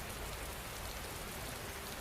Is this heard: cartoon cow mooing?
no